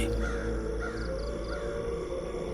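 Crow cawing in a Hindi horror story, a few short harsh caws repeating over a steady low ambient drone, fairly close and clear with no talking.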